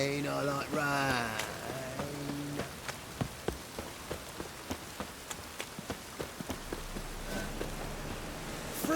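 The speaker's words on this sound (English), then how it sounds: "Rain, I like rain." Steady rain hisses down in The Witcher 3: Wild Hunt, with scattered drips and taps ticking at irregular intervals; a voice speaks briefly at the very start.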